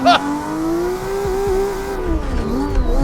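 A Nissan Skyline R33 in a racing video game drifts through a corner, its engine note climbing and falling as revs shift, with tire scrub and a gear change, while a person talks over it.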